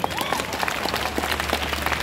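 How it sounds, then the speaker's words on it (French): A short burst of audience applause at a cosplay show at Japan Expo Centre 2023, many hands clapping together in a brisk, steady patter. "une main d'applaudissement s'il vous plaît"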